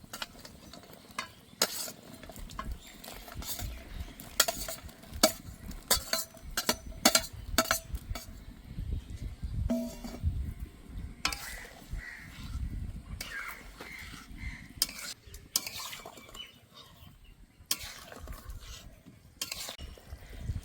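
Bitter gourd pieces tipped into boiling water and stirred in a pot, with repeated clinks and scrapes of a utensil against the metal amid a steady bubbling background, no talking.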